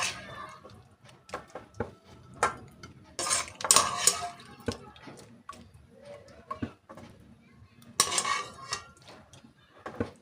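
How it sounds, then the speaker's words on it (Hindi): Utensils clink and scrape against metal pots as soft-cooked carrots are lifted out and set into a separate pot, a series of close, irregular knocks and clatters with quiet gaps between them. "इस तरह से निकाल लेंगे और अलग बर्तन में रख लेंगे।"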